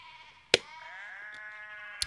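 Sheep bleat in a Spice and Wolf anime episode: one wavering, moderately loud bleat with a couple of sharp knocks around it.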